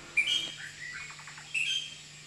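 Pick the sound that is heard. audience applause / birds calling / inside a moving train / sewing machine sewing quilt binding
birds calling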